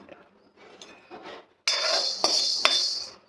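Black peppercorns dry-roasted in a pan while making ulavacharu powder: soft rattling, then a louder scraping and clinking of the spice being stirred and moved against the metal pan, with two sharp knocks.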